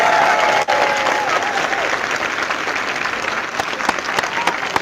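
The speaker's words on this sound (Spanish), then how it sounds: "Aplauso para la iglesia católica, la iglesia de Jesucristo." A church congregation breaks into dense, steady applause, a roomful of hands clapping together, with a few louder individual claps near the end.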